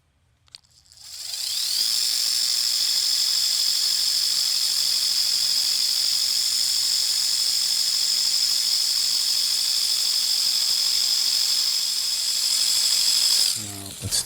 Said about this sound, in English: Let me just try the dual action on that little nick there.